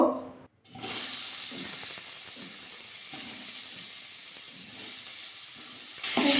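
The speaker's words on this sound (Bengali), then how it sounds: "প্রথমে আলুটা ভাজা করে নেব" Potato pieces frying in hot oil seasoned with salt and turmeric in a wok, for a Bengali cauliflower dish. A steady, close sizzle starts after a brief pause and continues evenly, with no talking.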